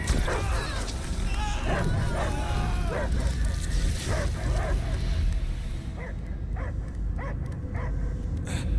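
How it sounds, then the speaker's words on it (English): A large creature barks and yips repeatedly in the Marvel's Guardians of the Galaxy video game, loud barks mixed with game effects and character dialogue throughout. "I hear only barking."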